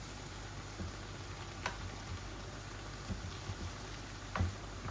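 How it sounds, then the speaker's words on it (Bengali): Mixed vegetable bhaji fries in a pan with a soft, steady sizzle and low crackle, faint and even throughout, broken by a few brief clinks, with no talk. "দেখছেন কত সুন্দর ভাজি হচ্ছে"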